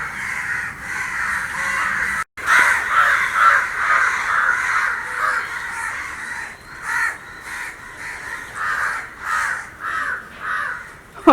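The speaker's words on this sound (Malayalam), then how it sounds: "ആ കാക്കകളെല്ലാം കൂടിയിട്ട് വലിയ സൗണ്ട് ഉണ്ടാക്കുന്നുണ്ട് അവിടെ" A flock of crows caws loudly and repeatedly in front of a village house, harsh calls overlapping in uneven bursts with a brief break partway through.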